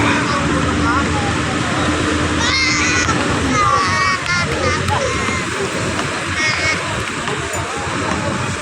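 Rough, typhoon-churned sea in Manila Bay off Navotas splashes and rushes continuously and loudly around a large boat, with voices and shouts heard over the surf.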